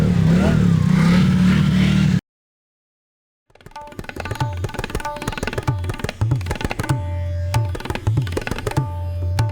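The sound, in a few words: engine starting and revving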